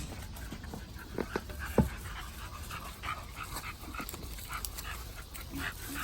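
Dogs pant steadily while relaxing outdoors, with soft rhythmic breathing close by, a few faint knocks and whimpers, and no talk.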